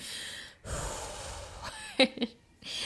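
A voice imitates a deep, calming breath: a long drawn inhale, then a soft snorting exhale and short breathy puffs, close and alone with no words.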